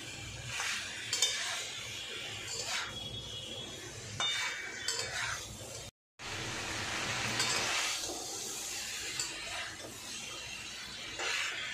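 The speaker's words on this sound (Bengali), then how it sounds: "কপি দিয়ে আর এই মশলা দিয়ে আলুকে ভালো করে কষে নেব" Potatoes and fried cauliflower are stir-fried with spice masala in a pan. A moderate sizzle is heard with scraping stirs and clinks of a spatula against the metal, and the sound drops out briefly partway through.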